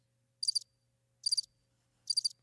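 Three short, evenly spaced cricket chirps from a soundboard, each a quick bright trill, with near silence between them and no talk.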